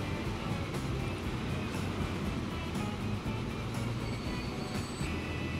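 A freight train in the Transport Fever video game runs past with a steady, faint rolling clatter of wheels on track.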